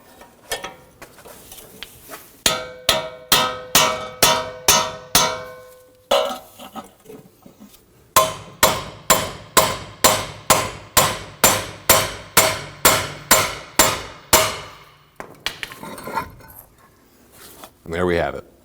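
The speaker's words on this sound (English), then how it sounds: "If the knuckle is stuck on the strut, you may need to use a hammer and chisel." Repeated hammer strikes on a chisel ring out as a stuck steering knuckle is driven off the strut of a 2016-2022 Honda Pilot during front wheel bearing work, with two bursts of rapid, evenly spaced metallic blows, loud and close.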